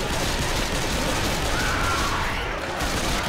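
Dense, continuous gunfire from the zombie shooter Left 4 Dead 2 fills the whole stretch at steady loudness, a rapid, unbroken barrage with no pauses.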